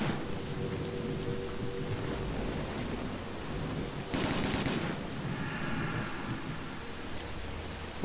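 Gunfire in the video game S.T.A.L.K.E.R. Call of Pripyat: a loud, dense burst of shots around the middle stands out over a steady rumbling, rain-like ambient bed, with fainter reports scattered before and after.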